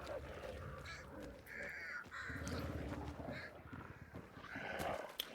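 Crows caw repeatedly in a video game bayou hunt, harsh calls sounding from nearby and farther off over a continuous outdoor backdrop, with a few faint hoof-like clops mixed in.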